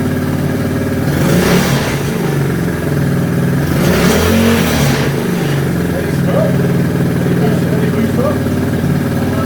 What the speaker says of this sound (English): Alright, give it a rev.